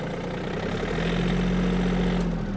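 Steady idling-to-driving drone of a Yanmar F-210 Japanese mini tractor engine pulling away in first gear, a continuous low hum that firms up and rises slightly about a second in, alone with no talk.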